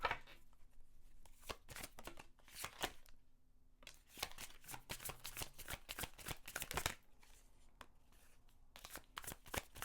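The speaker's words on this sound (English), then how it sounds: "It's been a while since I used these cards. And they're easy to shuffle" A deck of cards being shuffled, repeated sharp riffling bursts with short pauses between them, close and crisp in an otherwise quiet room.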